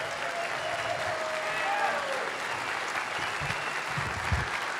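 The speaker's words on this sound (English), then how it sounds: "A big round of applause for Jamie." A convention crowd at a county GOP gathering gives steady, sustained applause for a congresswoman, with a few voices mixed into the clapping.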